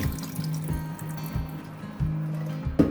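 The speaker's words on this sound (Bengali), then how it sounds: "তো আমরা এবার একটু ঠান্ডা জল দিচ্ছি যাতে লেবুর গন্ধটা না পাওয়া যায় ঠিকভাবে।" Cold water poured into a pot during rosogolla sweet-making, a short close splash and trickle over about three seconds, with a brief louder knock at the end.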